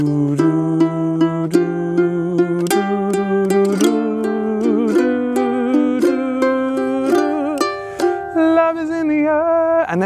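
A ukulele is strummed and picked through a song: bright chords with a string of plucked melody notes in an easy rhythm, played solo and close, with the last notes ringing out.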